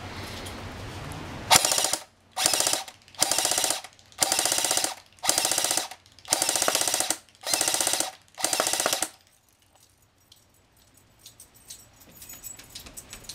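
An ICS M3 Grease Gun airsoft rifle fires full auto at a tree outdoors, seven loud buzzing bursts of about a second each with short gaps, then quiet.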